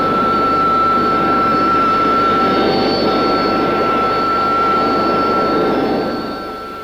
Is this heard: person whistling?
no